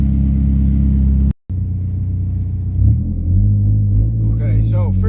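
Mazdaspeed 3 with an AEM methanol solenoid on a test drive, engine rumbling nearby and then pulling harder as revs climb toward the end.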